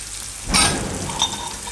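Peanuts and cashews dropped into hot oil and stirred, a loud close sizzle that swells as they hit the oil and then settles into a steady frying hiss.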